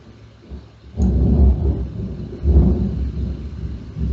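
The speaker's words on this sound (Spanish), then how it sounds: "Está lloviendo y duro, bro. Está tronando, bro." Heavy rain with rolling thunder: two deep, loud rumbles swell in close succession over a steady wash of downpour, with no voices.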